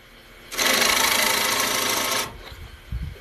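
A wood lathe turns a bowl without a chuck line, a tool cutting with a loud, bright, continuous scraping whir for about two seconds before falling away to quiet handling knocks.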